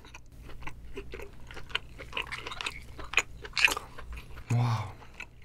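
Lobster claw meat from a spicy seafood boil is bitten and chewed close to the mic, with soft crunches, wet chewing and a heavier thump near the end.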